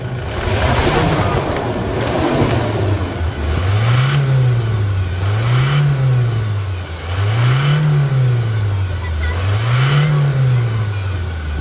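Engine of a Toyota Hilux with 130,000 km is revved repeatedly while parked during servicing, rising and falling in four or five regular swells over a steady idle, loud and close.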